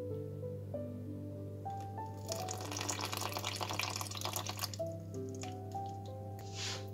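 Lemon juice poured into mascarpone cake batter gives a wet, dripping splash for a few seconds, rising in the middle, over the steady hum of an electric mixer.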